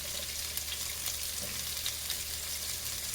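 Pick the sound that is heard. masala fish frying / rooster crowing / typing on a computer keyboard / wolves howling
masala fish frying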